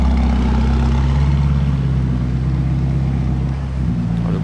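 A Ferrari GTC4 V12 engine rumbles deep and loud at close range, holding a steady idle-like drone, then dips briefly toward the end.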